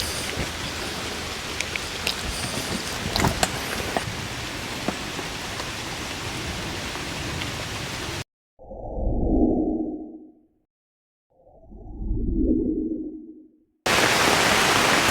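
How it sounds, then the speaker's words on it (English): Steady, hissing rainfall fills the air at a truck campsite, broken partway by a pause with two soft swelling whooshes before the downpour returns. "it's raining pretty good out there"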